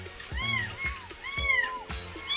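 A cat meows repeatedly up close, several short rising-and-falling cries in quick succession at moderate loudness.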